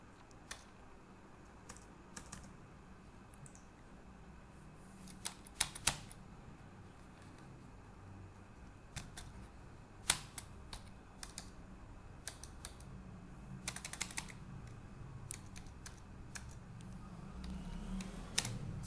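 Scattered keystrokes on a faulty computer keyboard whose space bar does not register, sharp individual clicks at an irregular pace over a low, steady room hum, fairly faint and close.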